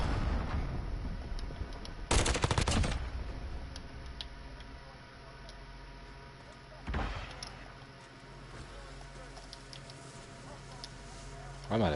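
Gunfire in Call of Duty, two sharp loud bursts a few seconds apart, each ringing out over a quieter, steady game background.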